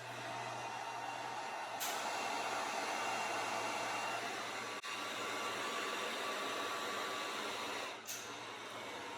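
A heat gun blows on a 2020 Dodge Charger Hellcat trunk badge to soften the adhesive, a steady loud airy fan whoosh with the motor note shifting briefly as it switches or moves.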